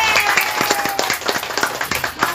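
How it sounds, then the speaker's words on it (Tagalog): Steady rhythmic handclapping for the first pair at a Christmas party, close and crisp, going on without a break. "Para sa unang pareha, palakpak."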